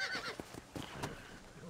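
A horse neighs in the video game Red Dead Redemption, a short, fairly close whinny with snorting and breathy bursts, heard alone at moderate loudness.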